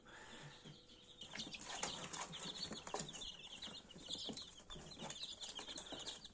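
Newly hatched chicks in an incubator give a steady run of high, thin cheeping peeps, soft and close, with light rustling and bumps beneath them.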